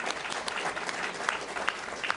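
Applause from an audience at an Illinois political gathering, a brief steady patter of clapping hands heard from a moderate distance, lasting a couple of seconds with no voices over it.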